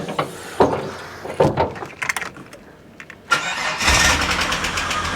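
A Holden VT Commodore left unstarted for a few weeks is cranked after a few clicks and handling knocks, catching with a loud roar that settles into a close, steady idle.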